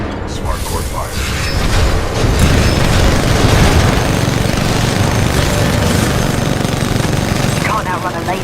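A Titan's smart core firing in the video game Titanfall 2: a loud, dense, continuous rattle of rapid shots and booms that builds over a few seconds and keeps hammering, with brief game voices over it.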